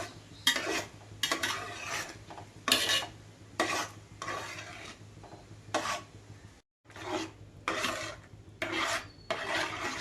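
Rice payasam with jaggery and coconut milk is stirred in a pot in repeated scraping strokes, close and fairly loud, with brief pauses between strokes and a low steady hum beneath.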